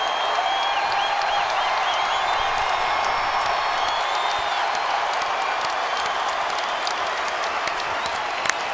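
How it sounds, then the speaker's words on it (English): Arena crowd at TD Garden giving a standing ovation during an NBA game, a dense, steady roar of applause with whoops and scattered cheers continuing throughout. "They remain standing here at the TD Garden, applauding Paul Pierce."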